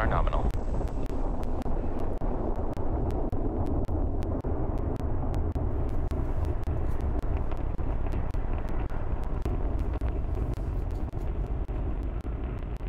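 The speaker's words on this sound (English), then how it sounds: "Engine full power and liftoff of USSF 67." Falcon Heavy rocket engines at full power during liftoff produce a dense, continuous roar heard from a distance, with wind buffeting the microphone and crackling bursts throughout, under faint background voices.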